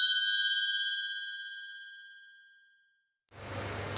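A single bright bell ding rings out and slowly decays over about three seconds, followed by a sudden burst of broadband noise.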